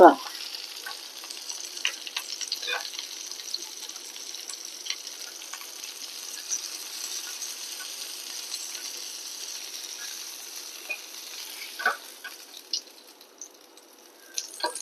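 Kilimeen fish fries in hot oil with a steady, close sizzle that runs throughout, broken by scattered crackles and a few sharper pops near the end; nobody speaks.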